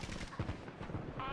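Gunfire in a military shooter video game, a short, dense burst of rapid low booming shots under continuous game ambience.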